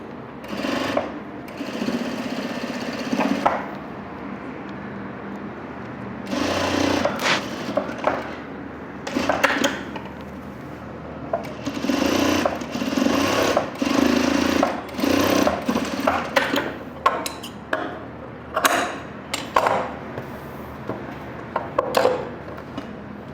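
A sewing machine stitches a blouse in several loud, rapid bursts of mechanical chatter separated by brief pauses, with faint handling noises between runs.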